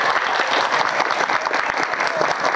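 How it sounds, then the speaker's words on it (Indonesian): Steady audience applause fills the whole stretch, a dense wash of many hands clapping at an outdoor community gathering in Simpang Tugu, Rokan Hilir, with no talk over it. "wah, ini baru kasih tepuk tangan."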